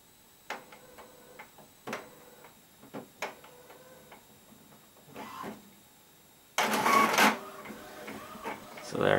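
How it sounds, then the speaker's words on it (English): A home printer printing a document sent from an iPad, with repeated mechanical ticks and short whirring bursts in an uneven rhythm, then a louder, denser stretch of paper feeding and motor noise near the end, close by. "So there it is, beginning to print."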